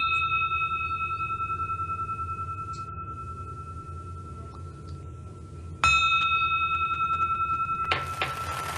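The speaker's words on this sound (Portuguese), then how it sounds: "após a batida do sino" A bell struck to open a Rotary Club meeting gives a faint, sustained ringing tone over low room noise, then a second, louder strike rings out near the end.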